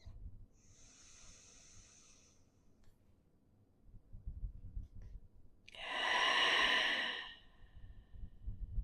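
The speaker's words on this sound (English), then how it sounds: "One more deep breath." Slow deep breaths during a gentle stretching session: a soft inhale early on, a pause, then a louder, longer exhale, close and quiet over faint room noise.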